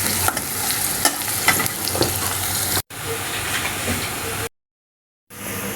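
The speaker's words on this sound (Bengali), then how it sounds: "আমার কিন্তু এখানে পেঁয়াজটা ভাজা হয়ে গিয়েছে।" Onions frying in a pan for a potato and chicken-skin curry, a continuous hissing sizzle broken by scraping stirring strokes, close and alone, cut short by two brief silences.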